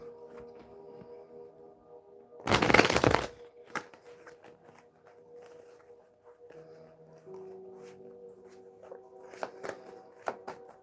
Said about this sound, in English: I'm not gonna take that. I'm gonna shuffle again.